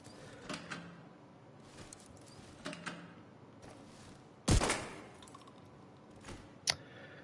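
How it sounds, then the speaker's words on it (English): Shotgun blasts in The Division 2, a single loud close shot with a sharp broadband crack standing out from quieter clicks and handling noises, followed by a smaller report near the end. "I found out this shotgun is amazing, as I'm going to show you"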